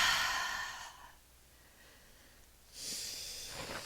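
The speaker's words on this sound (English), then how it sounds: "Couple of big breaths." Two deep breaths taken during a yoga session for glute and hamstring strength, each a long airy exhale or sigh near the mic, separated by a quiet pause.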